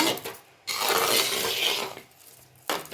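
Kalkandu sadam, a sweet rock-sugar rice dish, stirred in a cooking pot, giving a steady scraping, clinking sound of the ladle against the pot for about a second and a half, fairly close and alone.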